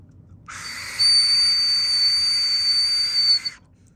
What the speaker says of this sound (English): Little whistles.